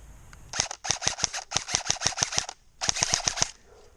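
An Arcturus NY-03 M4 airsoft rifle fired semi-automatic as fast as possible, a rapid run of about a dozen sharp snapping shots, a short pause, then another quick burst of roughly seven.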